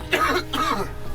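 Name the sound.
coughing fit after swallowing seawater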